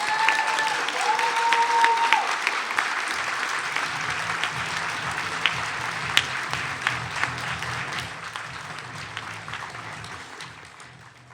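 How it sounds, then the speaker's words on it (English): Audience applause fills an awards ceremony hall, a dense sustained wash of clapping that stays steady and loud for most of its length before gradually thinning toward the end. "celebrating and recognizing Ingrid by a big round of applause."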